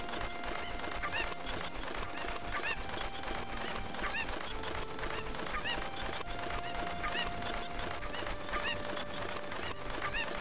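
Chickens clucking and squawking in the video game The Legend of Zelda: Ocarina of Time, several birds calling repeatedly over a steady backdrop of game music around the village.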